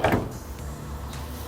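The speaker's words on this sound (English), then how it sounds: "Door already got locked." A washing machine door lock clicks shut as the spin cycle starts, giving a sharp mechanical thump followed by faint clicks over a low machine hum.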